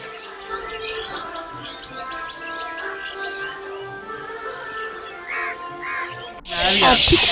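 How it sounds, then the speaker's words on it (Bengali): At dusk outside a village house window in Krishnanagar, crows caw repeatedly among other chirping birds at moderate distance, ending in a sudden louder burst of noise. "এত পাখির আওয়াজ কি বলবো মানে এত পাখি"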